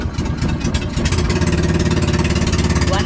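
A fishing boat engine cranks and catches, then settles into a loud, steady, throbbing idle with a rapid regular chug, heard up close with no talking.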